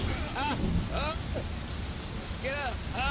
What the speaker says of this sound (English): Well, I also added a little rain effect.